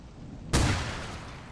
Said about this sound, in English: I like that explosion.